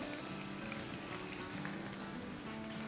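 Crushed garlic sizzles in about five tablespoons of hot oil in a wok over low heat, a soft, steady crackling hiss with no voices.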